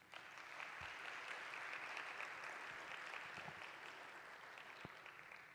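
A lecture audience at a university talk applauds steadily, an even, dense spread of clapping from a seated crowd that holds throughout and eases slightly near the end.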